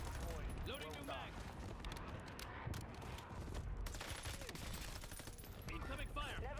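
Incoming gunfire in Call of Duty: Warzone, a dense continuous rattle of distant shots and bursts running throughout, with bits of game voice and mechanical clatter mixed in.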